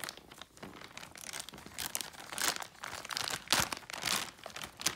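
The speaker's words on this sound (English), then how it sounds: "See, easy just to rip open." Plastic packaging around a Twin Air foam air filter crinkles and tears in bursts, with rustling and crunching handling noises up close and no talking.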